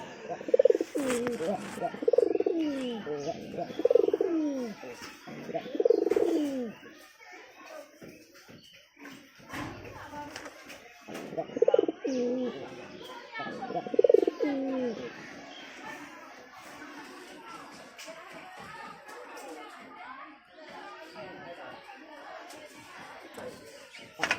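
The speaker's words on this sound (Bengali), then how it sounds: "এখানে আমার ওই শিকারি পায়রাটা আছে" Hunting pigeons coo in a loft as birds are being paired, with rhythmic throaty coos in several bursts, mixed with shuffling and rustling and a person talking at times.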